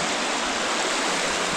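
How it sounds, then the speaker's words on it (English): Hudson River water rushing on a mountain hike in the Adirondacks after heavy rain, a steady, dense, loud roar of flowing water close by, without talking. "Just for reference, how the Hudson River is here now as compared to then after a couple"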